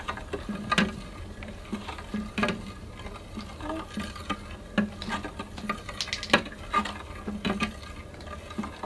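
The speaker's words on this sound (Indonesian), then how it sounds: "Siapa lagi mengaduk? Oin, ayo Oin, aduk" Homemade hand sanitizer mixture being stirred in a container, with repeated scraping and tapping strokes at an irregular pace, fairly close and alone without talk.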